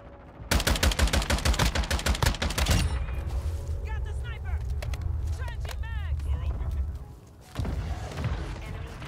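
A Lachmann 762 rifle in Modern Warfare 2 fires a loud, rapid string of about twenty heavy shots, followed by mechanical clatter and softer game noise.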